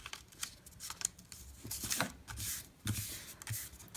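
Paper being folded and creased by hand to make a small no-glue notebook. Crisp rustles and sharp creasing swipes come in uneven bursts, close and clear, with no talking.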